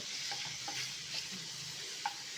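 Prawns frying in a pan, a steady close sizzle with occasional light stirring scrapes and one brief clink near the end, with no talking.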